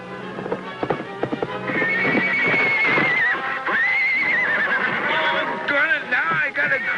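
A horse neighs and whinnies loudly in several long, wavering calls, with hooves clip-clopping nearby at the start and a voice shouting over it, in an old Western adventure show.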